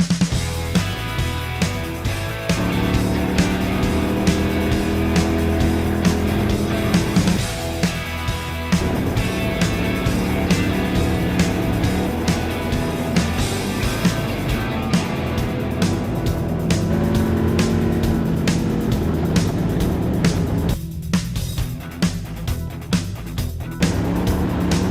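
Race cars roar around the oval at Vado Motor Speedway after the green flag, several engines layered and droning loudly and continuously, with brief surges as cars pass close by.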